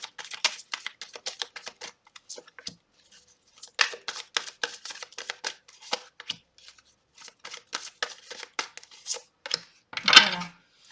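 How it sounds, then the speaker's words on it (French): Tarot cards are shuffled and drawn, producing dense runs of crisp, close riffling and flicking clicks in bursts with brief pauses, ending in a louder slap. "Alors, on va tirer les cartes par décan."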